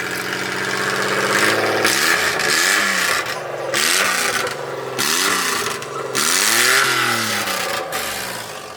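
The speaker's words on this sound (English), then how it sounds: "Rev it, rev it, rev it." A Suzuki Carry kei truck's small engine, its exhaust scraped into a side exit, revs repeatedly in sharp bursts, the pitch sweeping up and dropping back several times, loud and close.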